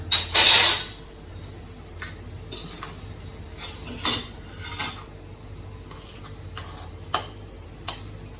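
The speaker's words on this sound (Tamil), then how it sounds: "இந்த மாதிரி நல்லா முட்டையை நல்லா உடச்சி மிக்ஸ் பண்ணிக்கோங்க." Beaten eggs whisked in a bowl for egg pakoda, heard as a brief loud burst of clinking followed by scattered light taps and clicks of a utensil against the bowl, close and alone.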